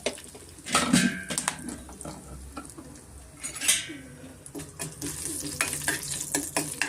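Curry leaves, asafoetida and turmeric fry in a pan for a moong dal and spinach dish, with a soft sizzle under repeated close spoon scrapes and clinks against the metal.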